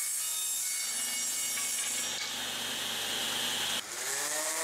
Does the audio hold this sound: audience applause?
no